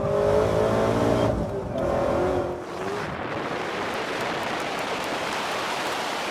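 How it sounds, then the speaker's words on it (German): An 800-horsepower car engine roars loudly under hard acceleration with rising, strained harmonics in the first seconds, then settles into a dense, steady rush of wind and road noise. "Es sei denn, man tritt das Gaspedal durch. Und dann beginnt das Beschleunigungsinferno"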